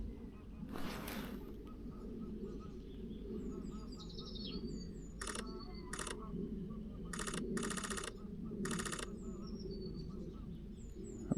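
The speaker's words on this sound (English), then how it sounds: "really many birds there now." Many seabirds call at a seaside spot in the morning: repeated bursts of sharp chirps and cries, some near and some distant, over a steady wash of surf and wind, with quiet speech at times.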